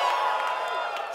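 Audience at a design slam in Las Vegas cheers, whoops and shouts continuously, a dense crowd roar filling the room for a brief moment.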